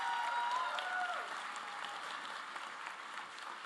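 An audience at a college commencement applauds, a dense patter of many hands clapping that is strongest at first and then tapers off slightly, heard faint and at a distance.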